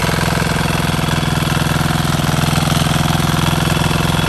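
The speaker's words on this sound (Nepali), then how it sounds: "पुरै ट्र्याक्टर जोत्दैछ" A tractor ploughing a farm field for corn planting, its engine close and loud with a steady rapid chugging knock throughout, no voices heard.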